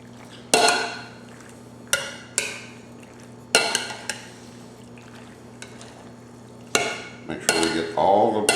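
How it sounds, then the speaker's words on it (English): A spoon stirs elbow macaroni pasta salad coated in ranch dressing in a bowl, giving sharp clinks and scrapes in irregular bursts with quiet gaps and a steady low hum beneath. "We're going to give this a quick stir."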